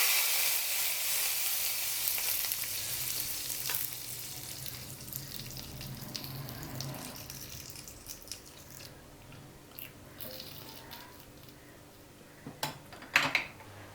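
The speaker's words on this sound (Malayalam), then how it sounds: "ഈ കടുക് വറുത്തത് നമുക്ക് ഈ കറിയിലേക്ക് ഇട്ട് കൊടുക്കാം." Fried mustard seeds and chillies poured into pineapple pulissery curry, giving a steady close sizzle that fades over several seconds before a few clinks of a utensil at the end.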